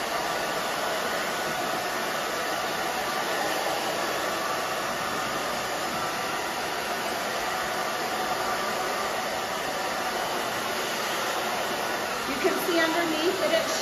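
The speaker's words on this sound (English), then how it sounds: "So we'll dry it and then we'll see what we want to do with it." A hair dryer runs steadily and close up as it blows through a client's very thick brunette hair during a salon styling, a continuous whooshing roar that holds nearly unbroken throughout.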